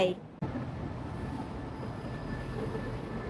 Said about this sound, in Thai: ขบวนหนึ่งสามเก้าเข้ามาเทียบในชานชลาที่หก